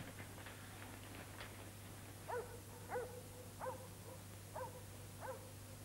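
Five distant dog barks at steady intervals, faint over a constant low hum, with fainter yips earlier.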